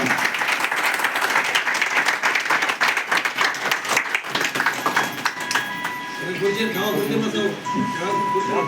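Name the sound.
audience clapping loudly at award ceremony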